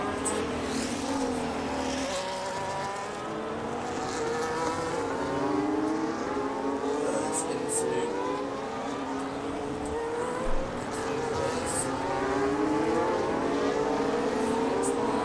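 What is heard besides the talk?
F1 race cars driving in the F1 25 video game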